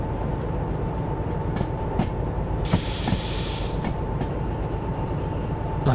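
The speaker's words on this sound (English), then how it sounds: "I'm just going to get the train on the brakes anyway" A freight train brakes in Derail Valley, with steady rumbling rail noise under a burst of air-brake hiss and sharp intermittent clacks and squeals.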